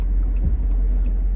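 A 2003 Land Rover Discovery 2 with a brake warning light on rolls off from a house, its engine a low, steady rumble heard from inside the cabin.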